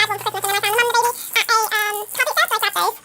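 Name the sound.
baby playing in a jumperoo bouncer, rattling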